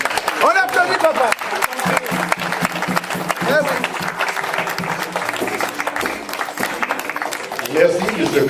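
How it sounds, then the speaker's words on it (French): Applause for the father at a traditional wedding, sustained dense clapping from a crowd lasting throughout, close and loud, with voices talking over it. "On applaudit, papa."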